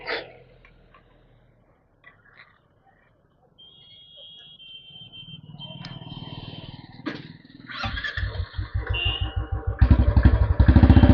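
A motorcycle starting a ride: after near silence and a few faint clicks, an engine idles and then revs up, growing into a loud, rhythmic, throbbing roar close by at the end.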